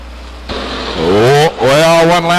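Stock cars at Stockton 99 Speedway in 2002 roar off the turn, their engines revving loud and close with a rising, climbing pitch as they accelerate past, while an announcer's voice sounds over the racing.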